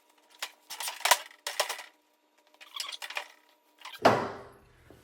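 A GM 4L60E automatic transmission from a 2002 Chevrolet Avalanche is flipped over on a workbench, with bursts of metallic clanking and scraping followed by a heavy metal thud that rings out, close and loud.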